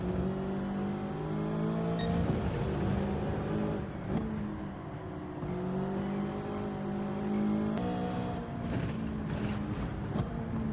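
Race car engine in Gran Turismo 7 at Deep Forest Raceway, a steady droning whine that rises and falls in pitch with shifts and speed changes, held at a moderate level with no talk over it.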